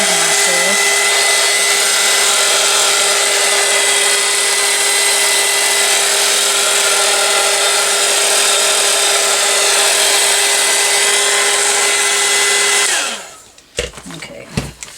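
A heat tool dries paint on an art journal page with a loud, steady whirring blow that runs for about thirteen seconds. It then cuts off, followed by a few faint handling clatters.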